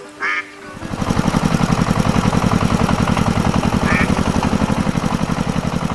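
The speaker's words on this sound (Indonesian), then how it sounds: "Traktor merah mulai bergerak, mengangkat kaki-kaki di tanah yang lembut. Suara mesinnya menggema di tengah keheningan pagi hari." A red tractor's engine idles and chugs in a cartoon scene, its steady rapid pulsing loud and continuous after a brief quiet start.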